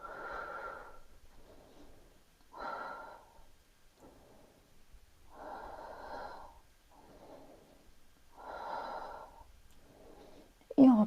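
Slow, deep breaths during a yoga exercise, several soft inhales and exhales in an even rhythm, close and quiet, ending in a short louder noise.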